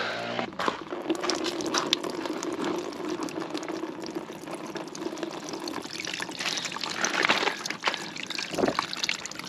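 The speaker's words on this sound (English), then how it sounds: "Now I'm not going to undo the plug all the way, that's plenty of flow for me" Radiator coolant draining from a partly loosened drain plug on a car, a steady close trickle and splash of liquid into a catch container that runs throughout.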